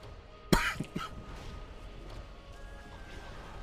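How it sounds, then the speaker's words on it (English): One abrupt, loud cough close to the microphone, followed by a couple of softer throat sounds, then quiet room tone. "That cough came out of nowhere."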